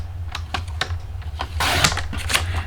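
A 6 by 6 sheet of paper is cut for a card. Light taps and clicks lead into a brief scraping slice of the blade, close and moderately loud, with no speech.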